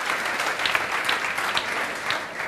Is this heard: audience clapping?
yes